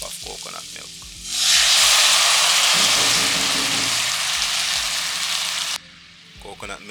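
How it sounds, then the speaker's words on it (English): Coconut milk poured over callaloo and fresh thyme in a hot pot bursts into a loud, dense hiss that holds for several seconds before dropping off abruptly, with brief talk before and after. "Let that simmer on low while we wash the rice"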